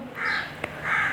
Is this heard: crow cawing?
yes